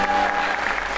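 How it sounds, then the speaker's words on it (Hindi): A talk show studio audience breaks into applause: a brief, dense, continuous wash of clapping from many hands, fairly loud and close. "तालियां इस बात पे यार।"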